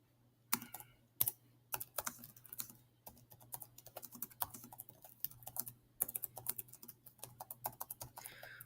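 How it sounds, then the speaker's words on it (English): Someone types on a computer keyboard in quick close bursts of clicking keystrokes, with short pauses between runs and a faint steady hum underneath. "I'll just type it in here quickly"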